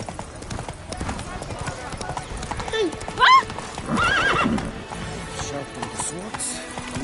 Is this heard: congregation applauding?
no